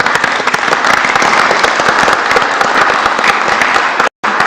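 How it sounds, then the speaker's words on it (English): A room at a Lynn Haven, Florida city commission meeting breaks into a steady round of applause, dense clapping with no talk over it, which cuts off sharply near the end. "So if we could give a round of applause for Mrs."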